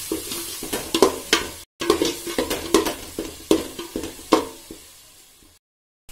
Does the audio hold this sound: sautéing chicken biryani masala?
yes